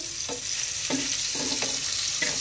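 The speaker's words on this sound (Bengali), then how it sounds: "এভাবে চাল কুমড়া ভেজে খাও বন্ধুরা তোমরা সবাই।" Slices of ash gourd fry in a pan with a loud, steady hiss of hot oil. A few soft scraping stirs sound over the sizzle, and no one speaks.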